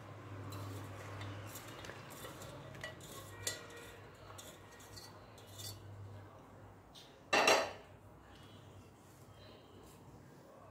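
A metal cooker pot clatters once, sharp and close, as soft boiled peanuts in their shells are moved into it. Faint, scattered kitchen clinks come before it in an otherwise quiet room.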